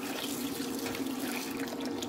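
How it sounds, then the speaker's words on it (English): Hot water pours steadily into a bowl of salted catfish pieces, a continuous splashing gush with no speech over it. "I add in hot water, not hot enough to cook it, but hot enough to take away the slimy things"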